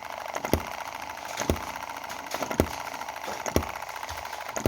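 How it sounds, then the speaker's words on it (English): A small M19/EM2 model engine running fairly fast, giving a steady rattling drone with regular sharp clicking beats about once per second, close and fairly loud, with no voices. "even with the engine going reasonably fast"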